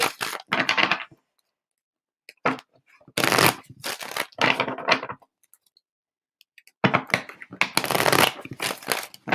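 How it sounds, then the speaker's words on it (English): Bursts of cards being riffle-shuffled, several quick rounds separated by short pauses, close and crisp. "Clearing shuffles."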